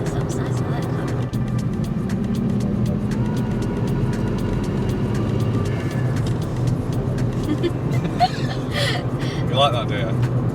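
A Volkswagen Up GTI fitted with a Racingline intake and turbo elbow drones steadily from the cabin as it accelerates along a straight, engine note continuous and loud throughout, with people talking over it.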